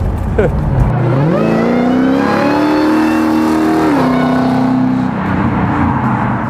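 A Hellcat-powered 1970 Plymouth Superbird restomod, around 900 horsepower, accelerates hard. The engine note climbs in a rising pull, levels off, then eases back, loud and close throughout.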